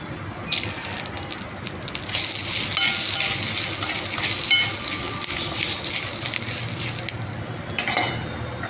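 Cumin seeds fry in hot oil alongside coriander seeds and curry leaves for a cabbage and moong dal chutney, giving a loud, close crackling sizzle with bursts of stirring and scraping.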